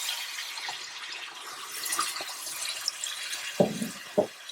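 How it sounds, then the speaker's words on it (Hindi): Water is poured into a handi cooking pot for chicken roast with a soft rushing splash, followed by two metallic clinks near the end. "और इसमें डालेंगे 1 कप पानी।"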